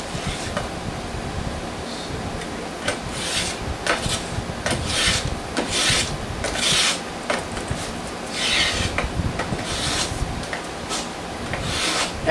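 Festool Carvex jigsaw cutting through plywood, a close rasping saw noise in repeated short bursts with brief pauses between strokes, steady in level and without talk.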